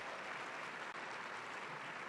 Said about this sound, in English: Give yourselves a round of applause, okay?